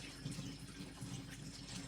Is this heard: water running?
yes